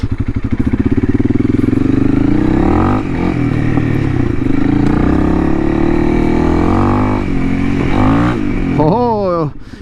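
Honda CRF 300L motorcycle with a tuned ECU ridden on an improvised off-road section, its single-cylinder engine droning loud and close throughout, with revs rising and falling and a sharp throttle blip near the end.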